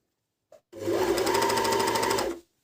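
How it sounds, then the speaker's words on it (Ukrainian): Overlocker serger sewing folded knit fabric, with a short click as it starts and then one steady, loud, close run of rapid mechanical whirring that lasts under two seconds and stops abruptly. "Включаємо верлок."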